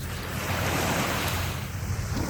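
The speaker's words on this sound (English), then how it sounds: "the waves crashing on the beach" Ocean waves washing onto Dane Street Beach in Beverly, Massachusetts, a broad steady rushing surf with gusty wind noise on the microphone, continuous and moderately loud with no voices.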